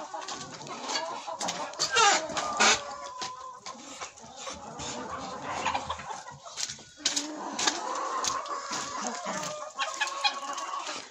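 Hens that have recently begun laying cluck and call in a winter farmyard, with repeated clucks and squawks at close range and no talk over them.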